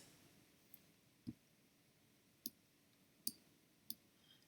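A computer mouse clicks in a Cricut Design Space session, five or six isolated, evenly spaced clicks, close and crisp against a quiet room.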